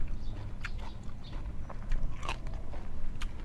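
Sago palm weevil larvae are bitten and chewed close up, giving a run of wet, crunchy bites and squishy chewing at an uneven rhythm with no talking.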